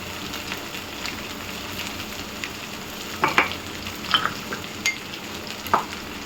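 Okra stir-frying in a pan at home, a soft steady sizzle with several brief scraping clinks of a utensil toward the end, fairly quiet and with no talking.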